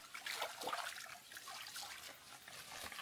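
Clear creek water trickling over rocks in a rainforest stream in Vietnam, a steady close hiss and babble that runs on its own with no talk.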